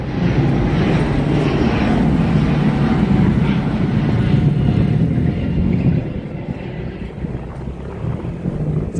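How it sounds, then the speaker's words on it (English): A big airplane passes over a street in Ponta Delgada, Azores, as a steady loud low roar mixed with wind buffeting on the microphone, easing slightly toward the end. "that will be the big airplane"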